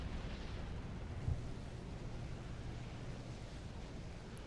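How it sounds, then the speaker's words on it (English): Explosions during a space battle in the Empire at War Stargate mod video game, a dense rumbling wash of low booms with one slightly stronger thud, steady and fairly faint throughout. "But whoa, that's a lot of explosions."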